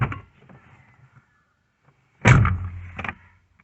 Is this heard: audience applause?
no